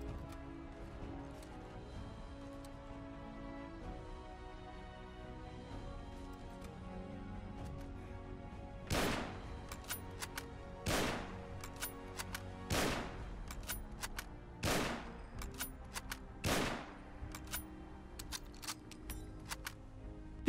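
Mosin bolt-action rifle firing in Fallout 4, five sharp loud shots spaced about two seconds apart over a low steady game ambience, no talking.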